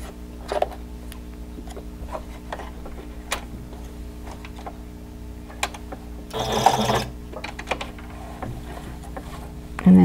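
A sewing machine stitches across a fabric face mask with a pocket, giving quick mechanical ticks and rattles, with a louder burst of running partway through.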